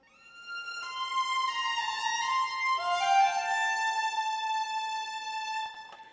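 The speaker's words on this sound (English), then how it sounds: "I took what they call a first chair violin" A sampled first chair violin from the LA Scoring Strings virtual orchestra library plays a slow, legato solo line of a few sustained notes in a roomy orchestral space, clear and alone.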